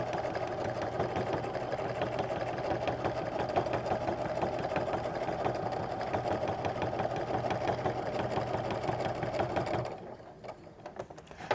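A quilting machine stitches straight lines through half-square-triangle blocks with a fast, steady mechanical chatter close by. The stitching stops abruptly near the end.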